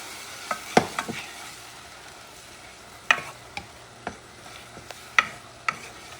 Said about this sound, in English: Then to add my tomato sauce.